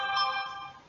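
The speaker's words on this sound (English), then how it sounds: "Sorry, that's my phone." A mobile phone ringtone plays alone, a steady bright electronic melody with sustained tones throughout, moderately loud and fading slightly toward the end.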